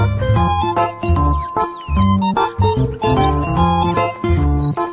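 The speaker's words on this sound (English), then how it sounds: "squirrel" A squirrel gives a run of sharp, high squeaks and quick chirps, repeated several times across the stretch and heard over steady, tuneful backing music.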